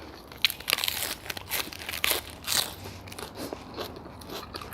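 Crisp raw vegetables and lettuce crunched between bites of pork noodle soup, a dense run of close, sharp crackly chews and crunches across nearly five seconds, loud and irregular with no talking.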